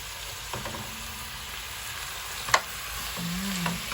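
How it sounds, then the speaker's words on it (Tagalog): Ground pork sizzles steadily in a hot pan, a close and constant frying hiss broken by the occasional scrape or clack of a utensil stirring the meat. "Atin muna siyang lulutuin maigi ang ating giniling."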